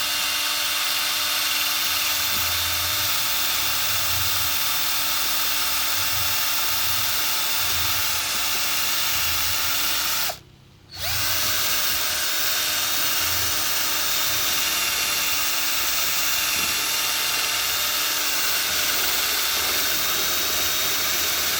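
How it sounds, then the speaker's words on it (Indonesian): An electric motor stirrer mixes a bio-synthetic 25-18-12 fertilizer with a steady, close mechanical whine and hum that cuts out for a moment halfway through, then resumes unchanged. "Di sini saya menggunakan adukan mesin ya, motor listrik."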